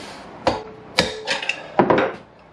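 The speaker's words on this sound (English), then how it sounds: "Give it a couple of whacks actually" Several hammer whacks drive a wheel bearing out of a 1998 Kawasaki ZX9R motorcycle wheel, with about four close, sharp metallic knocks at irregular intervals and a quick double hit near the end.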